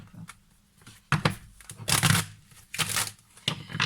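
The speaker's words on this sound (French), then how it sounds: "On me dit de te faire une coupe." Tarot cards are shuffled and cut by hand in several short riffling bursts separated by brief pauses, moderately close and with no speech.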